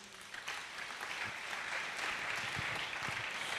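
A church congregation bursts into sustained applause, a dense, even patter of many hands clapping at a moderate distance, with no speech over it.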